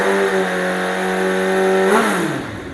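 Kawasaki Z800 naked motorcycle with an 800 cc four-cylinder engine, revved at quarter throttle: a steady, close engine drone holding one pitch, then a single rev rising near the end and falling back.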